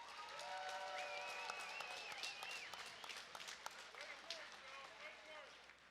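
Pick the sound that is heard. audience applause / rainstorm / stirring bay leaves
audience applause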